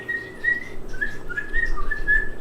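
A person whistles a string of short, chirpy notes that imitate a bird call, repeated in quick bursts over a low background hum.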